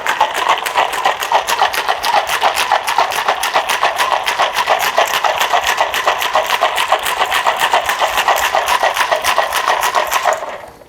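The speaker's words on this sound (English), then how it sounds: "close the lid, shake thoroughly. 35 or 40 shakes usually." A closed cocktail shaker full of ice and margarita is shaken hard in a fast, steady rhythm of rattling clacks, dozens of strokes loud and close, stopping abruptly near the end.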